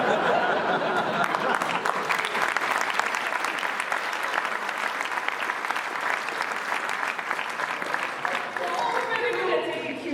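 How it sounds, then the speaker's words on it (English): A live-stream audience applauds at the start of a new round: dense, steady clapping that runs loud and unbroken for about ten seconds, with a hint of chuckling mixed in. "I have something from abroad here, and it's clap at the start of a new round."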